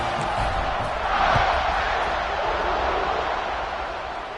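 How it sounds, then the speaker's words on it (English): A College Football 26 stadium crowd roars with a steady, broad wash of cheering that swells briefly and holds throughout, with no distinct voices on top. "this crowd now ready to get behind them"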